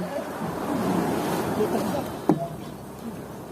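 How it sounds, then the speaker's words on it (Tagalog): Rough sea water surges steadily against a small boat heading to an island, with one sharp slap of a wave on the hull amid wind noise. "Ang lakas ng alon guys. Oh. Pinapalo yung aming bangka."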